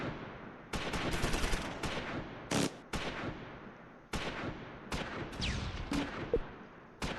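Gunfire in the WWII tactics game Close Combat IV, set around Dasburg and Wiltz in December: repeated loud bursts and single shots, some automatic volleys, crowded together with brief gaps and no talk.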